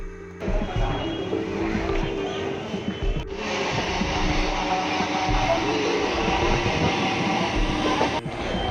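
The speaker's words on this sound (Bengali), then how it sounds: "বিধাননগর থেকে ট্রেনের টিকিট কেটে চললাম দমদম মেট্রোর উদ্দেশ্যে" Suburban train ride in Kolkata from Bidhannagar toward Dum Dum: a steady, loud rumble of the carriage with rattling and clatter throughout, a brief dip near the middle, no talk.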